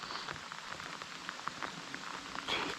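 Light drizzle pattering steadily on surfaces outdoors during a fishing trip, soft scattered droplets ticking over a continuous gentle hiss, no voices.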